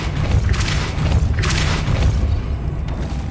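Depulso spell cast in Hogwarts Legacy, a pair of heavy booming thumps with bright whooshing bursts, about a second apart, loud and close with no voices.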